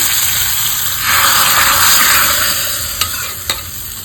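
Watery sambar being stirred in a pot, giving a steady close sizzling, sloshing wash with a couple of brief clinks near the end and no talk.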